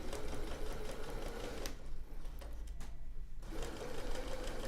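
A sewing machine runs in steady rapid stitching bursts, close and loud, with a short slower stretch in the middle before picking up again.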